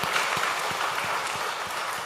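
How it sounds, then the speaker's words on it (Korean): Church congregation clapping in thanks for teachers and pastors, a brief, dense wash of steady applause with no talking over it. "우리 수고하신 모든 선생님들께 또 목사님들께 감사의 박수를 보내겠습니다"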